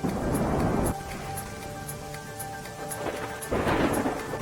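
Heavy rain pours steadily with thunder rumbling through it in a Gujarat downpour, a dense, loud roar that eases slightly in the middle before surging back up.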